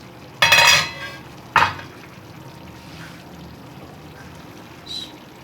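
A metal lid comes off a pot of cauliflower and meat curry with a loud scraping clatter, followed by a second shorter clank, then quiet simmering and a faint later clink.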